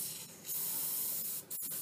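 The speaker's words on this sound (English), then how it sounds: "I'm using a cooking spray to grease the pans" A steady hiss of cooking spray from an aerosol can greasing cake pans, two close bursts with a brief pause between them.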